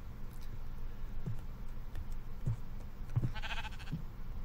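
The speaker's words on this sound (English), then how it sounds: "Oh, that's the sheep." Sheep bleating in Minecraft, several short bleats at about one-second intervals, fairly soft under a steady low background hum, with a brief brighter burst near the end.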